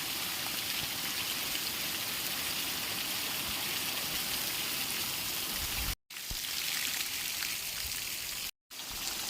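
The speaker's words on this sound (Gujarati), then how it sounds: "એકદમ વરસાદ ચાલુ થઈ ગયો છે" Heavy rain pours steadily onto a farm field and cattle shed, a dense continuous hiss of drops with brief cut-outs near the end.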